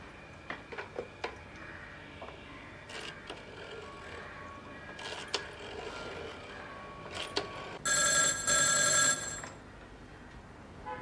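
A burst of electronic telephone ringing lasts about a second near the end, after scattered clicks and light handling noises in a quiet room.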